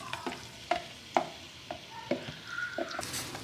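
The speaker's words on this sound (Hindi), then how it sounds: "ऑयल मेरा गर्म हो गया, अब मैं इसका प्याज शामिल करूँगी" Onion frying in hot oil in a home kitchen, heard as a soft sizzle under repeated close clacks of a spoon stirring the pan.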